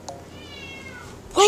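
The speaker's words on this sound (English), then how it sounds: "Sorry, that's my cat." A pet cat gives a single drawn-out meow indoors, fairly close and clear, followed by a sudden loud burst of sound at the end.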